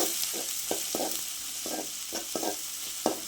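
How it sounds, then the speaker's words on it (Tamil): Chopped onions and curry leaves sautéing in a pan for a prawn fry, giving a steady close sizzle with repeated scraping stir strokes from a utensil, no voices. "வெங்காயம் நல்லா வதங்கிட்டு இருக்கட்டும்."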